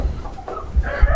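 Bantam chickens, including Struma Bantam, bantam Brahma and Paduan Porcelain, about three roosters among six or seven young hens, cluck close by in short, loud bursts that overlap.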